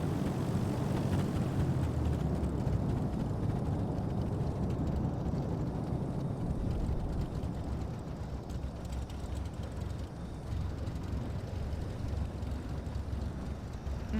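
An airliner taxis after landing in Microsoft Flight Simulator 2024, a steady loud engine drone and broad rumble that continues without a break and eases slightly midway.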